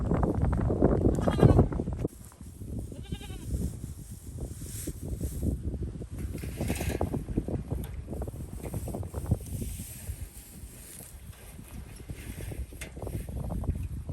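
Goats in their pen bleat repeatedly amid rustling and shuffling, with a louder burst of activity at the start and scattered calls continuing at moderate distance.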